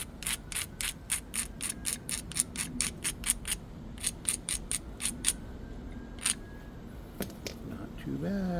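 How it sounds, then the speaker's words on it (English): A small hand grinder is worked against the edge of flaked obsidian, giving a close, steady series of sharp, rhythmic scraping strokes with a brief pause partway through; a voice enters briefly near the end. "Let's throw a little grinder and see how we did."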